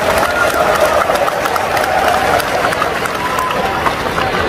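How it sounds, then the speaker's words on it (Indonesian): Crowd of teachers at a PGRI gathering in Indonesia applauding and cheering loudly throughout, a steady dense wash of clapping with no break. "Kalau saya ngomongnya pendidikan, tepuk tangannya keras."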